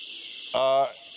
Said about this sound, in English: I'm not sure we can really continue until we get the alarm switched off.